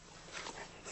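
A dog whimpers softly in short, faint whines, the thin high sound rising and falling over about a second with no talk.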